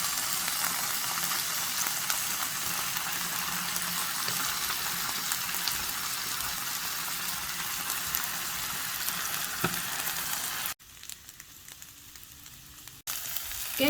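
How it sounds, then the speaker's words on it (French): Cut-up pieces of meat fry in a skillet for a Caesar salad, giving a steady, close sizzle with crackling spatter that runs throughout before briefly dropping away near the end and returning. "Je vais venir remettre tout ça dans ma poêle pour mieux griller."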